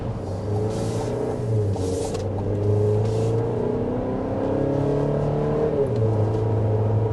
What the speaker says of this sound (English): we are speeding up to 55 miles per hour, so I'll let the engine calm down there